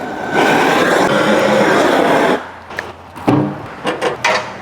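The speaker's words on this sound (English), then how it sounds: "I apologize for the road noise" Loud steady road traffic noise at an outdoor barbecue pit, a continuous broad rumble for over two seconds that then drops away into quieter intermittent sounds.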